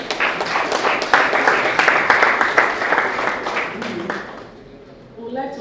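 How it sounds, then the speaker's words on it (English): A conference audience at an agri-food systems event claps in a lively, closely spaced burst that holds for several seconds. It then dies away, leaving a quiet gap before a voice begins. "Please, let's clap some more."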